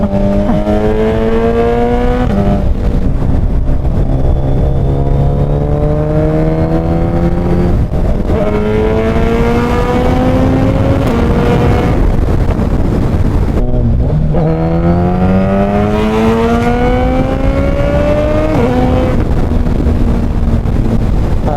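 A Suzuki Hayabusa with a quickshifter roars at close range on a long ride, its engine and exhaust climbing through repeated rising pitch sweeps with quick gear changes between them, loud and continuous with wind rush.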